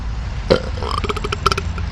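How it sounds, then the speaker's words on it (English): A single close, loud belch lasting over a second, rough and gurgling, with a brief vocal rise partway through. "Confirmation with the burp."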